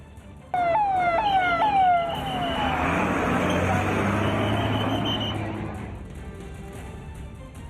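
Fire engine sirens arriving at a factory fire, a rising wailing siren sweeping up repeatedly and then fading into a broad roar of traffic and crowd noise.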